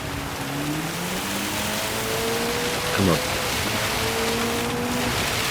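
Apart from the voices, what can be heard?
heavy rain in the Gran Turismo 7 video game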